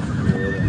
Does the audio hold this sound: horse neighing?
yes